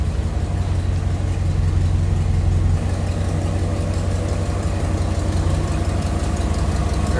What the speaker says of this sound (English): There you can hear a little bit of the exhaust leak.